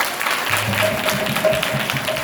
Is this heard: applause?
yes